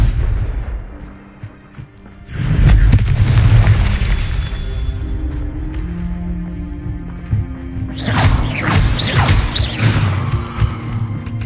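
A blasting spell explodes in the wizarding video game Hogwarts Legacy, giving a loud, deep boom that rumbles on for several seconds, followed by a second flurry of crashing, crackling impacts with no talk.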